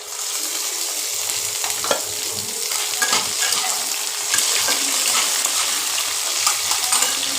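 Chopped tomatoes fry in a pan, a steady close sizzle broken by scraping spoon strokes and small clatters, continuous and fairly loud with no voices.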